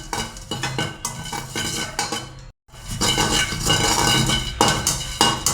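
Dried garlic roasting in a pan for chicken masala powder, with loud, close scraping and clinking of a utensil stirring against metal in uneven strokes, broken by a brief silence midway.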